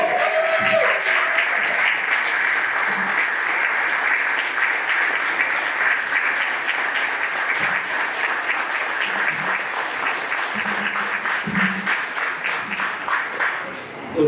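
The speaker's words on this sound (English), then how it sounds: "Give him a big round of applause." An audience at a business talk in Baltimore greets Dr. Boyce Watkins with a long, steady round of applause, dense clapping holding for the whole stretch, with scattered shouts and voices underneath.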